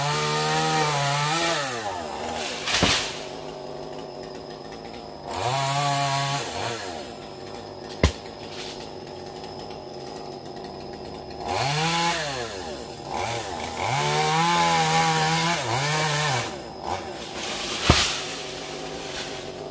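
A chainsaw cuts a tree branch on a mountain slope, its engine revving up and down in repeated bursts with idling between cuts and a few sharp cracks of wood.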